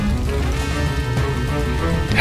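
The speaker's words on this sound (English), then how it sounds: "since it's raining like this" Rain falls in the video game Fuukan no Grasesta, a steady patter over a dense low backdrop with a faint musical tone running through, continuous and fairly loud.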